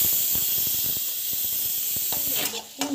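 Ground onion paste sautés in a pan with a soft, close steamy hiss and light spattering, and a voice briefly joins near the end.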